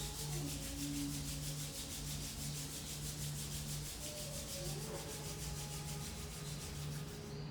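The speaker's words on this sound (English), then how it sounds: "Closing your eyes, you rub your palms into your feet." Palms rub slowly against bare feet during a quiet hatha yoga session. The soft, repeated rubbing strokes are faint and close, over a low steady background hum.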